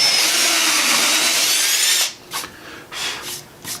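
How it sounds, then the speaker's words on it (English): A power drill whines loudly and steadily as it bores through an oak bowl blank, then stops, followed by a few short scraping and rubbing sounds nearby. "drill that out"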